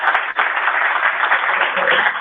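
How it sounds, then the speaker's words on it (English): An audience at an annual meeting applauds a panel, a dense, steady wash of clapping that is muffled and band-limited, sustained throughout. "So please, a round of applause for them."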